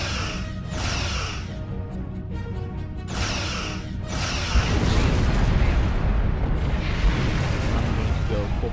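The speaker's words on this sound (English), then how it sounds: "there's where a high yield torpedo is going to come in handy" High yield torpedo blasts in the Star Trek Online space combat game: bright bursts of crackling impact noise early on give way to a loud, sustained low rumbling explosion that swells from midway and keeps roaring to the end.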